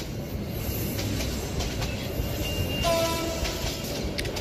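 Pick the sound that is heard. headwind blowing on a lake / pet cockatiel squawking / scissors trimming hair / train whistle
train whistle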